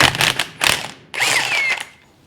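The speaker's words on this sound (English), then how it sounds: "what we need to get off here is this nut off the pitman arm" Ratcheting wrench or impact tool loosening the large 1.25-inch pitman arm nut on a 2004 GMC Sierra 3500 Duramax steering gear box, heard as close, loud mechanical bursts: two short rattling pulses, then a longer grinding whir, with no talking.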